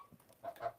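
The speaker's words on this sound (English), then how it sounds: "Brooklyn, do all of your chickens have names?" Soft, close clucks from backyard chickens, a few short murmuring notes bunched together at low volume.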